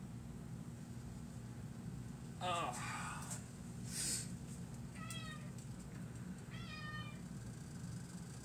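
A cat meows several times close by in a kitchen, with short rising and falling cries spaced a second or two apart over a faint steady hum.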